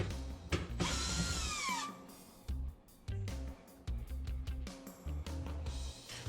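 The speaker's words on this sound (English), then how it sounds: "Now we're going to go ahead and remove the 2 screws that holds the broil in the back." A power drill or screwdriver whirs in bursts while backing out the two screws that hold the broil element at the rear of a Frigidaire electric stove. A higher-pitched spin-down comes first, then several shorter mechanical bursts with clicks between them.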